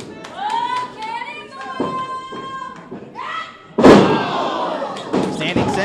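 A wrestler landing a standing senton on the ring mat during a women's pro wrestling match, a single loud, close thud cutting through crowd noise and ongoing commentary.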